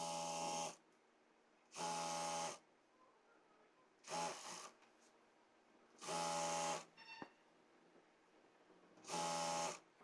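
A sewing machine stitches salwar fabric in five short bursts of steady mechanical buzzing, each under a second long, separated by quiet pauses, fairly close but soft.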